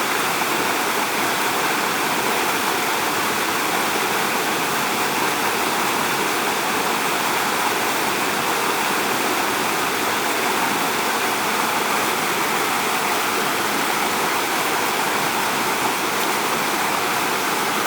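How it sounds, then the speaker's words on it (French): Continuous rushing roar of a mountain torrent near Cilaos on La Réunion, water tumbling steadily over rocks at close range, an unbroken dense wash with no voices. "Un petit coin de torrent du côté de Cilaos"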